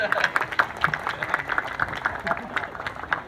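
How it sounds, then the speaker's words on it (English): A modest audience at an outdoor ceremony at Angkor Wat in Cambodia claps, giving fairly faint, scattered hand claps in a loose, rapid pattern. "can we give a round of applause for our Master of Ceremony, please?"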